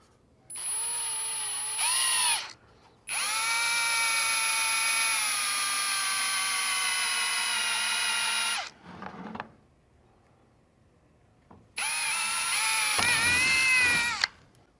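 A power drill opens up a bolt hole for a Polaris Xpedition Gen 2 turn signal, whirring in several loud bursts with short pauses and a falling pitch as each run ends.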